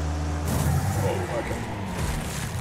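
A damaged stock car engine runs in the racing game Wreckfest, a rough, loud droning growl that shifts pitch as it accelerates, with an airy hiss over it.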